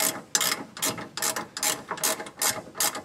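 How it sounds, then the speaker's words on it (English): Ratchet wrench turning a bolt while installing a bypass oil filter on a Dodge Ram 2500, giving about eight quick, evenly spaced bursts of clicking, each one a single swing of the handle. "I got a ratchet wrench on the back side"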